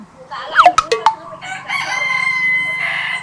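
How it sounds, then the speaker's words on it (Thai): Mini Cochin rooster crows close and loud in a backyard chicken coop setting, a single strained call with short rising notes followed by a sustained hoarse tail. "โคชินมันขัน ยังไม่ใช่เสียงไก่แจ้นะอันเนี้ยมินิโคชิน"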